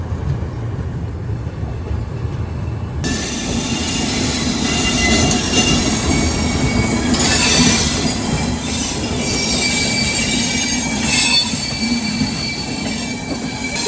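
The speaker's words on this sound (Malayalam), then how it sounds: "ഓൺ ടൈമിന് തന്നെ നമ്മുടെ രപ്തിസാഗർ എക്സ്പ്രസ് ഇവിടുന്ന് പുറപ്പെട്ടിരിക്കുകയാണ് ചെന്നൈ സെൻട്രലിൽ നിന്നും" The Raptisagar Express, an AC superfast train, departs Chennai Central station. A loud, continuous rumble of rolling railcars is heard from on board, with high metallic wheel squeals and faint clickety-clack throughout.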